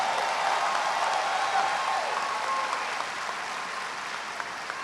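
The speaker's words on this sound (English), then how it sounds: "can we give Dr. Ritchie another round of applause" Sustained applause from a large commencement audience at a university graduation ceremony, a dense, steady wash of many hands clapping at once, loud and even throughout with no voices rising above it.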